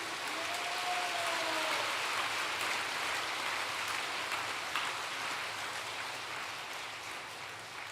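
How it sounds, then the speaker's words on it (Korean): A gathered assembly offers applause of thanks at a religious meeting, a soft, distant wash of many hands clapping evenly throughout, heard alone and fading slightly toward the end. "감사의 박수를 올려주시기 바랍니다"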